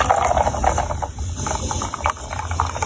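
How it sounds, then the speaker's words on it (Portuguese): Sparkling water fizzing into a glass of white wine with ice cubes, a steady close hiss of bubbles with faint crackle running throughout. "e aí você completa com água com gás"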